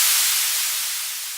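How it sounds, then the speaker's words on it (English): Steady, bright white noise hiss, broad and even across the short stretch, fading very slightly toward the end. "So white noise would sound like this"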